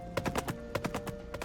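Pony hooves clip-clop at a steady walking pace, a string of sharp, fairly close knocks over faint background ambience.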